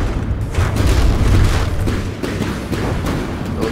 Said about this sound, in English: there goes another nuke landing